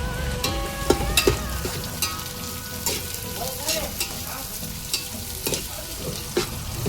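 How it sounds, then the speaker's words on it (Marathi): Sliced onion sizzling in a pan with whole spices for chicken biryani gravy, a loud, close, continuous fry with repeated scraping stirs and metallic clinks spread across the stretch, no voices. "आता ग्रेव्ही साठी आहे ना आपण कांदा टाकून घेऊया."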